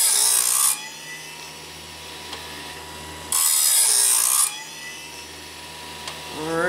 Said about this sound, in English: My version of a automatic bandsaw sharpener.